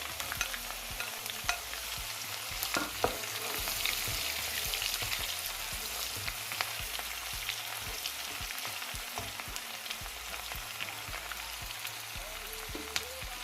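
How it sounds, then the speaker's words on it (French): Onion and garlic fry in a pan for a Ghanaian red-red dish of gari and beans, a quiet, steady sizzle with occasional soft stirring clicks and no voices. "On laisse cuire pendant une petite minute l'oignon."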